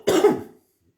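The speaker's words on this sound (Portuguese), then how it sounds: "essa tosse tá me matando" A single harsh cough bursts out close and loud, lasting about half a second before fading to silence.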